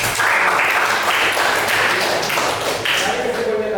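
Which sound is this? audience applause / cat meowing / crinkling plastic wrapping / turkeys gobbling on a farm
audience applause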